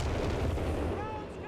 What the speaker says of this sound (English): dingo call-in to barrage this point here, almost killing the squad there